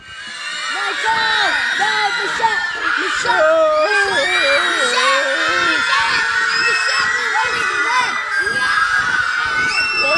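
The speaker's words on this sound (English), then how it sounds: "People ran screaming in the streets." A crowd of children's voices screams and shouts continuously, like villagers fleeing a fire-breathing dragon in a school-made Minecraft film, loud and close with overlapping high-pitched cries throughout.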